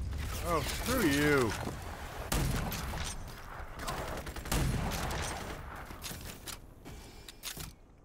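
Automatic cannons on a big vehicle in RAGE 2 fire loud, rapid bursts at close range, with clattering mechanical noise between volleys and a short vocal sound near the start.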